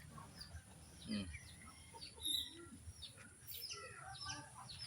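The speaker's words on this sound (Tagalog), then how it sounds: "Yan ating mga alagang manok." Faint chicken clucks and soft calls scattered through quiet outdoor background, several birds murmuring at a distance with no talking.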